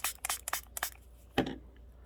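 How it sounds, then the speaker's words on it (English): Water spritzes from a spray bottle onto denture adhesive powder in a rapid series of short, close hissing bursts. A louder single spray or knock follows after a brief pause, then it goes quiet. "You have to spray it again to kind of activate it."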